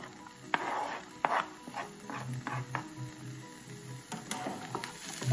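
Chopped tomatoes, onions and chili pepper frying in a pan, a steady soft sizzle with scattered clatter and stirring clicks, close and moderately quiet, no voices.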